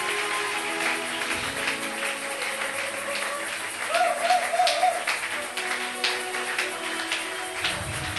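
A church congregation applauds and acclaims God in a steady wash of many hands clapping, with a brief rise in cheering midway and a voice speaking over the sound.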